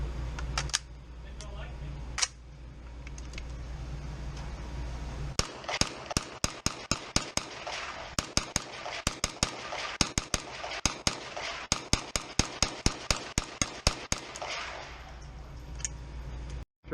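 Suppressed gunshots from a Zenith Z5-P pistol fitted with a Silencer Co. Omega 9K, sharp muffled cracks fired in quick irregular strings, some close together in bursts, over a low outdoor rumble.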